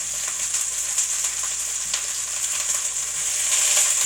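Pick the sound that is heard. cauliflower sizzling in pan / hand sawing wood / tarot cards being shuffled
cauliflower sizzling in pan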